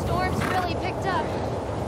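Storm wind gusting loudly in The Last of Us Part II, a steady rushing roar with whistling, howling overtones, heard under scattered talk.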